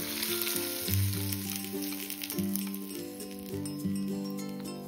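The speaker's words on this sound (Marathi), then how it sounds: "फोडणी छान अशी तयार झाली। आता ती भरतामध्ये टाकून घेऊयात।" Hot tempering of finely chopped green chillies and curry leaves sizzles loudly and steadily as it is poured into mashed potato bharit, with faint clinks of utensils and no talk.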